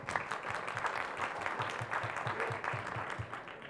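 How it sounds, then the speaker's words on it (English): A live audience at a youth forum town hall in Bangkok applauds youth fellows, a moderate, steady patter of clapping with faint voices and low rhythmic thumps underneath throughout. "give a round of applause to our youth fellows"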